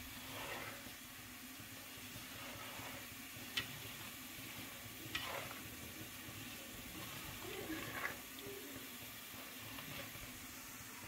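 Couscous is worked by hand with Moroccan water in a bowl, a faint, steady grainy rustle and hiss broken by a few soft clicks.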